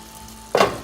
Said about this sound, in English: So I'm going to add a handful of this to our already boiling water.